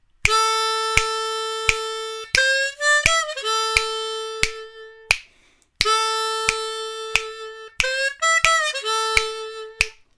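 Diatonic harmonica in D plays blues lines in two phrases of sustained, reedy notes with bends and quick slides, a brief pause between them, close and clear with no talking.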